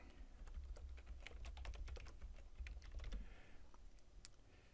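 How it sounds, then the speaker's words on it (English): Quick, irregular taps of typing on a computer keyboard, soft and close, with brief pauses between bursts of keystrokes. "if I want to add a description, I'd click in that box and just start typing"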